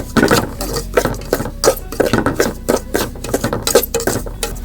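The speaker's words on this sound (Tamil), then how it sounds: "ரவையை கொட்டி வறுத்துக்கலாம். ரவையை வந்து நம்ம நெய்யில் தான் வறுக்கணும்." Semolina roasting in ghee for rava kesari, stirred with a metal spoon that scrapes and clinks steadily against the pan in quick repeated strokes, close and loud with no talking.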